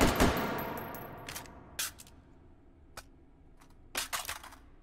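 Semi-automatic rifle in Hot Dogs Horseshoes & Hand Grenades firing sharp single shots at irregular intervals, with a quick double at the end, loud and close against a quiet background.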